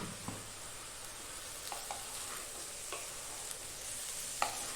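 Cubed tomatoes fry and get stirred in a pan, a soft, steady sizzle with occasional scraping clicks of the spoon against the pan.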